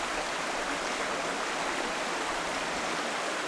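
Spring water bubbles up in the Elk River, heard as a steady, dense rush of flowing water, loud and close with no breaks or voices.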